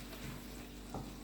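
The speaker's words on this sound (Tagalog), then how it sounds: "lagay natin yung 100 grams na tomato paste. At haluin lang natin." Tomato paste being stirred into sizzling chicken afritada, a steady close frying hiss with a brief scrape of the spoon near the end.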